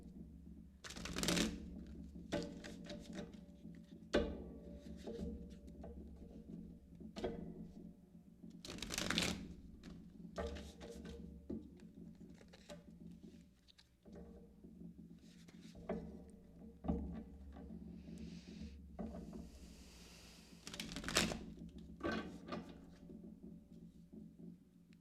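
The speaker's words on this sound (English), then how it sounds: "We're just going to do a shuffle real quick." Tarot cards are shuffled close up in repeated riffling bursts separated by softer handling and light tapping, with no voices.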